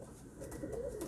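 A pigeon coos softly while being held in the hand, low throaty warbling repeated over a faint background, close to the listener with no voice.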